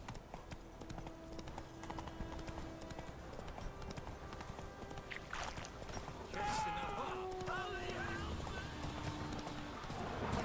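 Roach, a horse in the video game Witcher 3, runs with steady clip-clop hoofbeats throughout and a whinny partway through, set against game ambience and music with a voice talking over it.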